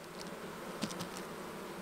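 Honeybees hum around small hives set up for virgin queens, making a steady, soft, continuous drone with no voices.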